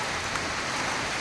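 Steady rain pours onto a match ground in Nalbari, a dense, even hiss of falling drops filling the air at close range without any voices.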